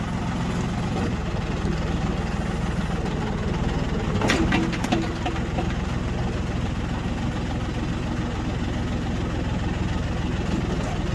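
A backhoe's diesel engine idles with a low steady rumble throughout, a brief clank of hardware partway through, and birds faintly audible in the background.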